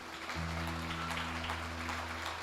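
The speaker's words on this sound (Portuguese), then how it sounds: "eu gostaria que mais uma vez você desse uma salva de palmas em louvor ao Senhor Jesus" Members of a congregation clap together at a celebration service, a thick roomful of applause layered over sustained instrumental tones that hold steady beneath it.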